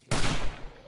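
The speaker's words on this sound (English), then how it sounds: "This gun is fun. I do like it. It's just, yeah, single shot bolt action." A single loud shot from a bolt-action rifle in 7 Days to Die, a sharp close crack that tails off into a brief echo.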